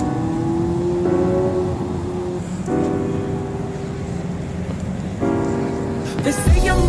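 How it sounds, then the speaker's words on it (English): A Porsche sports car driven at speed, its engine revving and dropping in repeated surges, loud and close throughout with steady road and wind noise. "Got my cousin right now driving the Porsche."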